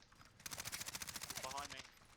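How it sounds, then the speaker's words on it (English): Rapid automatic gunfire in a first-person shooter game, a quick burst of evenly spaced shots lasting over a second, fairly faint in the mix. "Where was that shot?"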